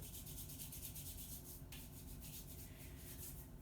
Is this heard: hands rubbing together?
yes